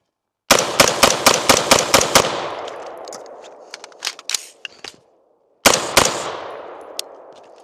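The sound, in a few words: Smith and Wesson M&P 15 SBR 5.56 rifle gunfire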